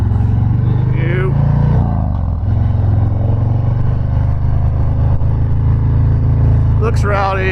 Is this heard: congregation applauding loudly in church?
no